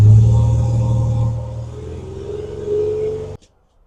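A 2011 Ford Ranger engine with a bolt-on muffler exhaust hums low and steady up close. The pitch rises slightly as it revs, then it shuts off abruptly into quiet.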